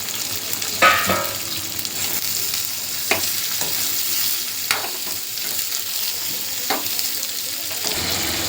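Bilimbi (cheema puli) pieces fry in hot oil for pickle with a steady, close sizzle. Occasional scrapes and clinks from stirring break through.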